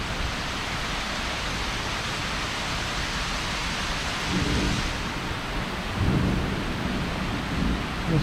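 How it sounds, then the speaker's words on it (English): A severe evening thunderstorm in Southeast Michigan with a steady roar of heavy rain and low rumbles of thunder swelling twice, close and loud. "The storm's about halfway over us now, so we got about the same amount of time before it ends."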